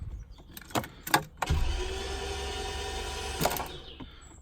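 Lexus GS300 engine cranked by its starter motor, a few short whirring bursts followed by a longer steady cranking drone and another brief burst, close and moderately quiet.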